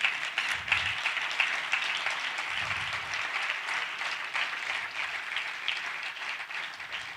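A church congregation applauds, a dense, steady wash of many hands clapping, moderately loud and sustained for several seconds with no clear speech.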